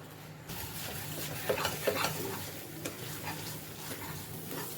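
A spoon scraping and stirring a thickening sweet in a pan on the stove: a steady, close, gritty scraping with a few sharper strokes along the pan's sides.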